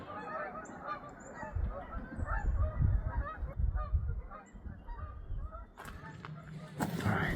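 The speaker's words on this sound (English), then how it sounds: "The geese overhead." Flock of geese honking overhead outdoors near a parked RV, many overlapping calls in an irregular chorus that swells and fades, fairly close, with a louder burst of noise near the end.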